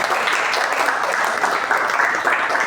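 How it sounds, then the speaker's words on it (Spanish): Steady, dense applause from an audience at a book launch for a fantasy anthology at Casa de la Literatura, a continuous wash of many hands clapping at even loudness throughout. "Un aplauso para todos los arcanógrafos"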